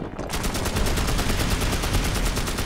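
Rapid automatic gunfire from guns in the video game Magicka rattles in a loud, steady stream of evenly spaced shots lasting nearly three seconds, with no talk over it.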